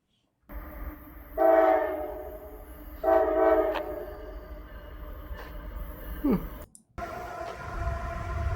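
A freight train rolls past under a steady rail rumble. Its horn sounds two long, loud blasts in succession, followed by continuing clatter and a fainter tone near the end.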